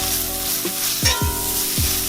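Butter hitting smoking-hot olive oil in a pan crackles in a loud, steady sizzle, with a few sharp spits and pops close up and no voices.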